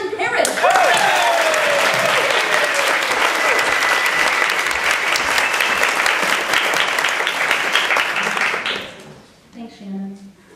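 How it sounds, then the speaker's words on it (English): Audience at a live literary variety show in Chicago breaks into loud, sustained applause and clapping for a playwright, with voices mixed in throughout, before the clapping cuts off and fades near the end. "please clap your hands for Caitlin Parrish"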